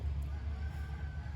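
A silkie rooster crows in a faint, sustained call against a low steady background hum, brief and somewhat distant.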